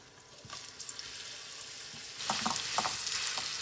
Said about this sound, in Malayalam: നെയ്യ് ചൂടായിട്ടുണ്ട്. നമുക്ക് ഈ ഏത്തക്ക അതിനകത്തോട്ട് ഇട്ട് കൊടുക്കാം.